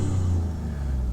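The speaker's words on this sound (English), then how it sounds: "When you go to dynamic mode, the exhaust valve opens up and you can hear so much turbo." Tuned 600 hp Alfa Romeo Giulia Quadrifoglio in dynamic mode with its exhaust valve open, giving a steady, close, loud low engine drone with an airy turbo hiss over it.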